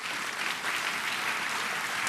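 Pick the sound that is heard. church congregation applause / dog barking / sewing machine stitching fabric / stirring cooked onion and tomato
church congregation applause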